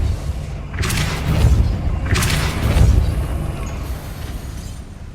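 Two heavy booming blasts from the Depulso spell in Hogwarts Legacy, each a loud burst with a rumbling tail, spaced about a second and a half apart.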